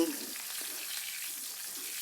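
Soft, steady sizzling of salted tilapia frying in a pan, a faint crackling hiss that carries on evenly throughout.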